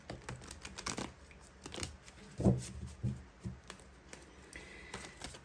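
Tarot cards are shuffled and drawn in a few soft, close rustling and flicking bursts against quiet room noise, with one firmer snap near the middle.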